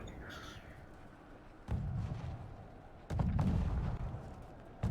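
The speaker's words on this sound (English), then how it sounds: "there's a lot of mortars coming in from PondGuard" Mortar and artillery fire in a multiplayer war video game: a steady rumbling battlefield backdrop broken by two heavy low booms that swell and linger, with a faint high whistle early on.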